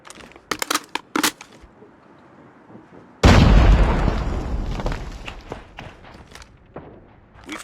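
A grenade goes off in Call of Duty Mobile with a sudden loud blast and a rumbling tail that fades over a few seconds, preceded by sharp gunshots and followed by scattered shots and footsteps.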